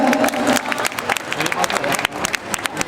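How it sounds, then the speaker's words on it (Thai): Audience applause at a Thai fan meet-up, dense scattered clapping with crowd noise filling the whole stretch, fairly close and steady with sharper individual claps poking through. "ขอเสียงปรบมือให้กับทุก ๆ คนในวันนี้ด้วยครับ"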